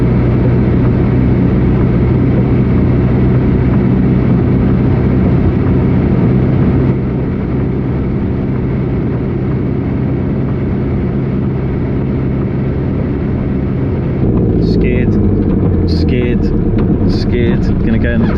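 A vehicle on grooved mud tires drives along a snowy trail, giving a loud, steady engine drone close by with a low rumble throughout and some rattling toward the end.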